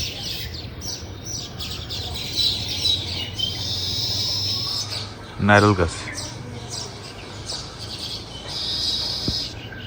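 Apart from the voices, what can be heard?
baya weaver birds calling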